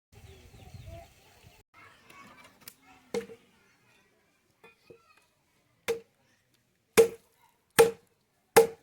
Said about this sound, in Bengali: এদিকে দাদু কাটাকাটি করছে কাঠ রান্না করার জন্য।